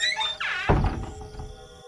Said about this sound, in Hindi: दरवाजा बाहर से बंद कर देती है